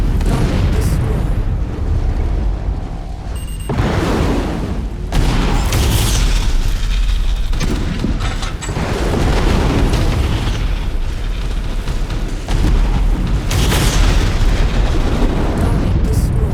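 Explosions of destroyed targets in the MechWarrior 5 video game, heavy booming blasts recurring across the stretch over continuous loud rumbling battle noise.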